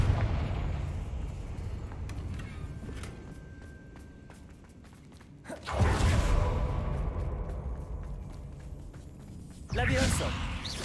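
Confringo fire spells from Hogwarts Legacy burst in loud, whooshing blasts, two big detonations separated by quieter rumbling combat noise and faint tones in between.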